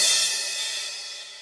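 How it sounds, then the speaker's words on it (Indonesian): A kick drum and crash cymbal struck together on a real drum kit, one loud hit whose bright cymbal wash rings out and slowly fades over about a second and a half, heard alone. "Kemudian ketuk secara bersamaan kick dan crash."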